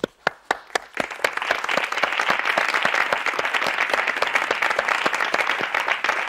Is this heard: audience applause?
yes